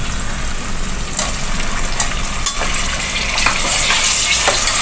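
Chicken pieces hit hot frying onions for chana dal chicken pulao, setting off a loud, close sizzle with sharp bursts of spitting and stirring clatter that swells toward the end.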